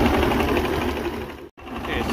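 Mercury V6 outboard engine idling close by, a steady mechanical chatter and rumble that dips out briefly before resuming.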